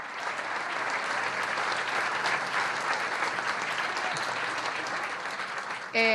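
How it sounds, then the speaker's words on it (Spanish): An audience at a political rally in a party hall applauds, a broad, continuous roar of clapping at even strength for several seconds, ending as a voice cuts in at the close. "Un aplauso para los compañeros"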